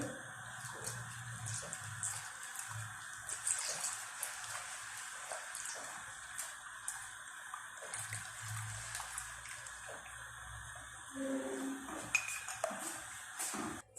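Metal spoon clinking and scraping in a pot while custard and milk are stirred continuously, soft repeated taps and light liquid sloshing at close range, with no talking.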